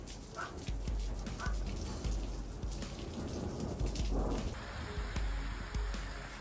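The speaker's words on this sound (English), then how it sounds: "A spectacular flash of lightning illuminates the Texas sky, electrifying a dramatic stormy night." Steady rain pours down during a night thunderstorm in Texas, with a dense hiss of drops and low rumbling thunder throughout, moderately loud and continuous.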